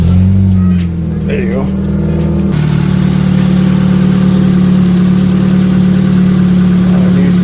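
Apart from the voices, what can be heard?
car engine starting and idling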